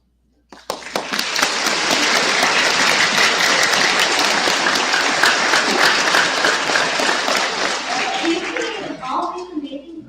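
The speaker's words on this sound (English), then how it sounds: "All these amazing projects, well done. Give them another round of applause" An audience at a project showcase breaks into dense, sustained applause that starts abruptly, holds loud and full, then thins toward the end as a voice begins to speak.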